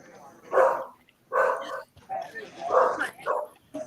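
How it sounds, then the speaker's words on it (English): A dog barks four or five times in a row, loud and close, with yippy, whiny overtones and short pauses between each bark. "Dog's got something to say."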